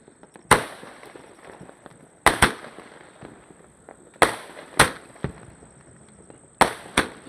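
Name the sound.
firecrackers exploding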